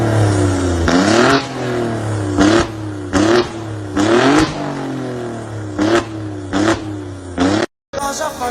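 A car with leather interior and paddle shifters starts up loudly close by, then revs in a series of sharp rising bursts that settle back to idle between them, before a brief silence at the end.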